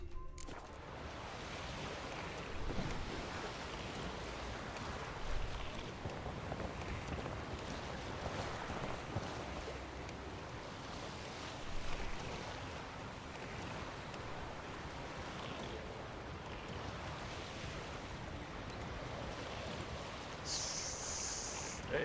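Boat sailing across open water in the Witcher 3 game, a steady broadband wash of waves and wind running continuously with small surges, no talking over it.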